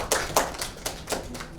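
A few sparse, separate hand claps from a classroom of students praising a good answer, about six crisp claps spaced unevenly and fairly quiet, with no talk over them.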